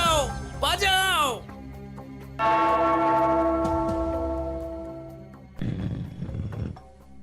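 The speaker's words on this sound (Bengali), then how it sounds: "ওই ঘন্টাটা বাজাও, বাজাও।" A bell rings out in an animated comedy, one clear struck tone humming and slowly fading for several seconds after a brief cartoon voice, with more voices at the end.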